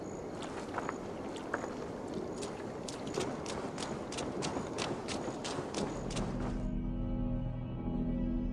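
Rhythmic horse hoofbeats from the video game Assassin's Creed Valhalla clip-clop steadily at a quick pace, fairly close, with a low rumbling backdrop; near the end the hooves drop out and a steady hum remains.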